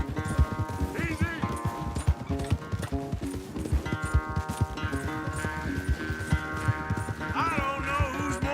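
Horse galloping in Red Dead Redemption 2, a rapid, steady clip-clop of hooves kept up throughout, loud and close under a swelling orchestral score, with brief snorts and a whinny.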